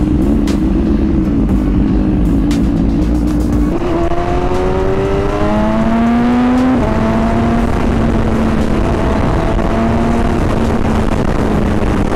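A BMW S1000RR sport motorcycle being ridden, its engine loud and close, droning steadily then revving up through rising pitch sweeps with shifts between gears, heavy wind rumble throughout.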